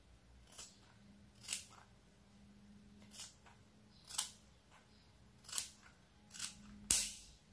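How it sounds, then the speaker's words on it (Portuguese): Scissors snip through the seam of a fabric kitchen rug in a series of about eight sharp, close cuts spaced roughly a second apart, with quiet pauses between them. "A gente vai cortar esse meio aqui"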